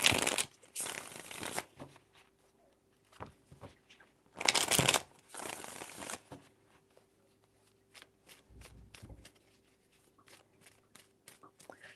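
Tarot cards are shuffled in several brisk bursts of riffling and slapping, broken up by scattered light taps and soft handling noises.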